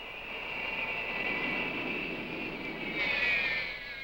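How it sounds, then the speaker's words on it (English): Ilyushin military transport aircraft landing at base, a steady whining jet engine drone with a high tonal whine holding throughout and swelling slightly toward the end, no voices. "the Ilyushins are landing back at base"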